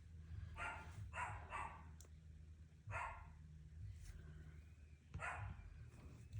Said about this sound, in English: he's just barking up a storm